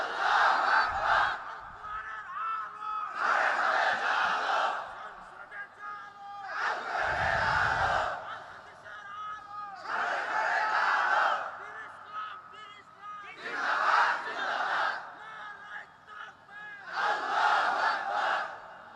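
A large crowd at a religious gathering loudly chanting takbir in repeated bursts, roughly six swelling waves of massed voices separated by brief pauses, with a lone voice leading between them.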